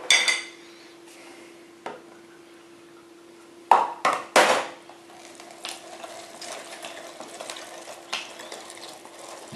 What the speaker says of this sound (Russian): Маслины измельчились, да, измельчает.